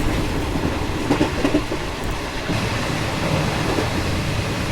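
The Ranchi Godda Intercity Express 18619 runs at speed between stations in heavy rain, a steady rolling rumble with faint wheel clatter throughout.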